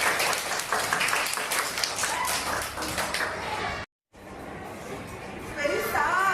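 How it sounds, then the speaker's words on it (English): Children clap together during a classroom food activity, a dense, continuous patter with voices mixed in. It stops briefly, then starts again. "Clap for them. Clap for them."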